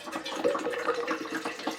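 Homemade nutrient water is poured into a water jug for houseplant care, making a short, close, trickling splash of liquid that burbles steadily for a couple of seconds.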